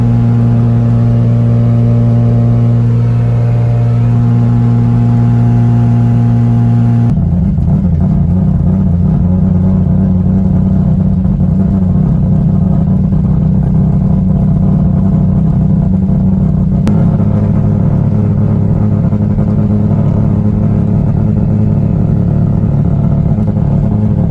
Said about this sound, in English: it sounded like the car was like misfiring